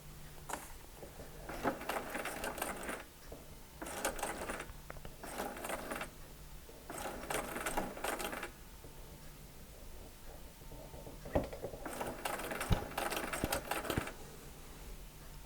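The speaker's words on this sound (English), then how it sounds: "now going to stitch about halfway in between my marked line and my stitched line" A sewing machine runs long stitches across a quilt for an eight-point star block, in several separate bursts of whirring and clatter with short pauses between, close and moderately loud over a low hum.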